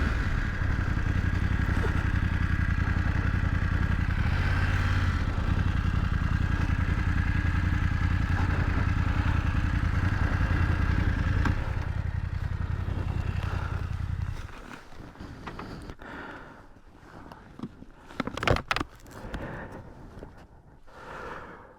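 A BMW 900GS motorcycle engine runs steadily and loudly for about fourteen seconds, then drops away, leaving quieter wind and handling noise with a few bumps.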